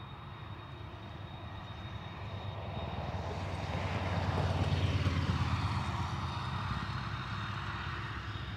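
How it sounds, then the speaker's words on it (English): An ATR turboprop airliner departing Dublin Airport produces a steady engine drone that builds to a peak midway and then slowly eases off, heard alone at a moderate distance. "It will have to hold just because the ATR has just departed."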